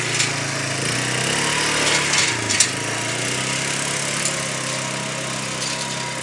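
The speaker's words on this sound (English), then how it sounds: "Mowing the lawn." A 1960s pull-behind lawn mower engine runs steadily while mowing grass, a loud continuous drone close by with slight dips as it bogs under load, and no voices.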